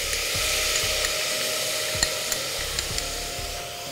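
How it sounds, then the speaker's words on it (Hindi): Soaked rice tipped into a hot pan of oil for khichdi, giving a steady close sizzle with a few light scrapes and taps of stirring. "अब हम इसमें ये भीगे हुए चावल डाल देंगे"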